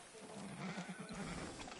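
A horse in the video game Red Dead Redemption 2 gives a shaky, fluttering whinny over a busy background ambience, fairly faint, with no speech.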